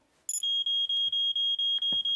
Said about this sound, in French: J'ai un détecteur de fumée comme tu me l'as demandé.